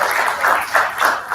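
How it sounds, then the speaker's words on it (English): An audience at an AI conference in Hyderabad gives a round of applause, a close, fairly loud patter of clapping hands swelling in soft rhythmic waves over a brief stretch. "So let's give a big round of applause again."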